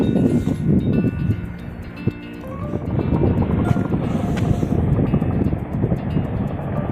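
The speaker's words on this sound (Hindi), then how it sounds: "अगर आप मेरे सामने हेलीकॉप्टर को ढंग से देख पा रहे हैं तो ये है चिनूक" A Chinook military helicopter near the Kedarnath trek route gives a loud, steady rotor and engine roar with wind buffeting the microphone.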